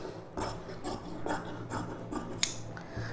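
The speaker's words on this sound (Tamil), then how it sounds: "இப்போ நம்ம இந்த அளவு அப்படியே கட் பண்ணி எடுத்துக்கலாம்." Scissors cut through blouse fabric for aari work, with several close, crisp snips and a soft rasping slide of the blades through the cloth.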